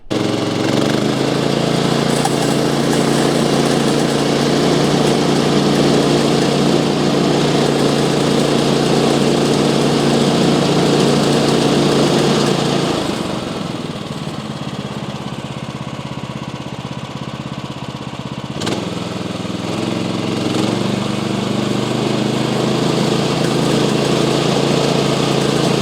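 A gas-powered sawmill engine runs loud and steady close by, its drone dipping briefly about halfway through before picking back up and continuing to the end.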